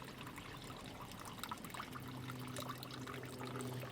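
Water trickles and pours steadily through the piping of a DIY solar aquaponics strawberry system, a soft continuous flow that grows a little fuller toward the end.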